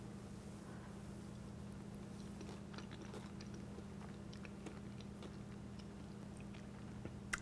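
Someone biting into and chewing a lemon-lime Emerald Isle dessert with a soda cracker crust, soft crunching and chewing close up over a low steady background hum.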